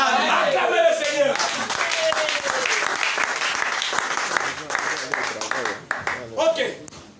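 A church congregation applauds and cheers for the Lord, sustained loud clapping from a crowd with voices and shouts mixed in, tapering off near the end.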